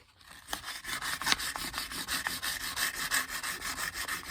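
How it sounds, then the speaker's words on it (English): Fine sandpaper rubs steadily over wood, held at an angle while polishing parts of a cigar box guitar build, a continuous close scratchy rasp with rhythmic back-and-forth strokes and no talking. "And then to polish, I just get that fine sandpaper, that mighty fine sandpaper"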